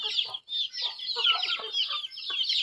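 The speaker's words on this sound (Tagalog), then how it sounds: "So ito may bago akong tinalian guys. Ayan, Dito na yung mga sisiw nakaraan." Chickens and chicks cluck close by, a busy, overlapping stream of high peeps and short clucks lasting a couple of seconds, with no talking.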